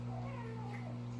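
A Bengal kitten growls and mews steadily over her food bowl, a close, continuous rumbling cry lasting the whole moment against a constant low electrical hum.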